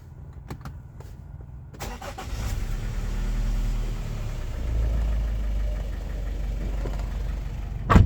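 A 2010 Nissan Murano Z51 is push-button started: a short starter crank, then the engine catches and settles into a steady, close idle that continues to the end, with no talking.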